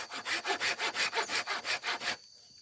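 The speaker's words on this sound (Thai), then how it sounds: "ถ้าไม้มันเอียงไปฝั่งนี้ให้เราตัดมาฝั่งนี้อยู่ที่หนึ่ง" A hand saw cuts through a bamboo stalk in about eleven steady back-and-forth strokes, close and rasping, then stops, leaving near silence.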